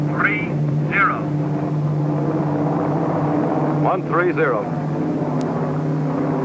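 A propeller airplane engine drones steadily in flight throughout, a continuous low hum beneath radio-style talk exchanging heading and altitude instructions.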